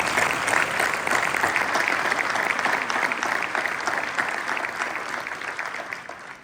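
An audience at a New Year's wishes ceremony claps together in memory of Jean Langer, a loud, even burst of applause that holds steady and tapers slightly at the end.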